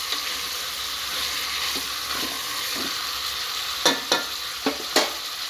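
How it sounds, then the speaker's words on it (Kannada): Brinjal pieces fry in oil for vangi bath, a steady soft sizzle that runs throughout, broken near the end by several sharp metallic spatula taps on the pan. "ಇದು ಚೆನ್ನಾಗಿ ಆಯಿಲಲ್ಲಿ ಫ್ರೈ ಆಗಬೇಕು"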